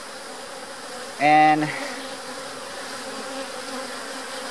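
Honey bees buzz around a hive during a colony split, a close, steady drone throughout with one louder, brief pass of a bee near the microphone, and a voice briefly speaks.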